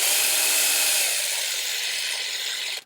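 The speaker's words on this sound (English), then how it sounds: "we'll kind of just let the drill do the work." A power drill whirs steadily as it polishes a part of an Atari Kangaroo arcade cabinet, a loud, close, continuous high buzz that eases slightly in pitch before cutting off abruptly.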